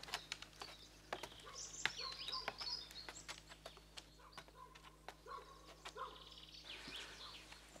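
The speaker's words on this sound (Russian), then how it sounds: "Птички поют." Birds sing and chirp outdoors in a rural summer setting, with busy overlapping calls and sharp clicks at moderate distance and no talking.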